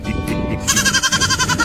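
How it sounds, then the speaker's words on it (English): Baby goats bleat loudly and close by, one long wavering bleat breaking into a quick run of shaky pulsed calls, with no talk over it. "And I watch him open his trunk and baby goats come out."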